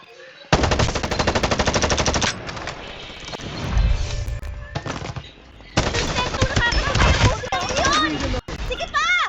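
Rapid bursts of machine gun fire ring out in several long volleys, loud and close, in the battle royale video game Farlight 84, with people talking in between and over the shooting.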